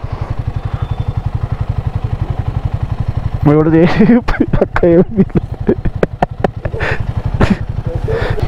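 A Himalayan motorcycle's single-cylinder engine thumps in a steady, laboring rhythm while climbing a steep mountain road in Zanskar, Ladakh, loud and close, before voices talk over the engine and the rumble becomes intermittent.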